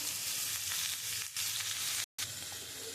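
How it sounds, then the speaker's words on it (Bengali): Vegetables sautéing with chili powder and other spices in a pan for a papaya, potato and rohu fish curry: a dense, steady close sizzle that drops out for a moment near the end, then resumes, with no talking. "আমি খুব সুন্দর করে মশলাটা দিয়ে আমি সবজিটা একটু কষিয়ে নেবো"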